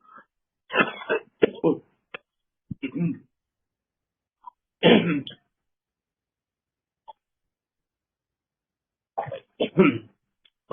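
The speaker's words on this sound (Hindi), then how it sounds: "सॉरी थोड़ी खांसी आ रही।" A person coughs in several harsh, separated bursts, with pauses of silence between the fits, close to the microphone.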